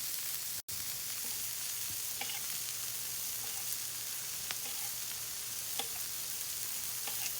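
Tomatoes sizzling on a hot grill beside smash burgers, a steady loud hiss with faint ticks and crackles throughout and one brief dropout near the start.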